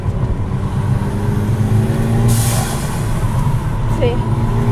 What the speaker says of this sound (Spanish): A ver si aquí se escucha el turbito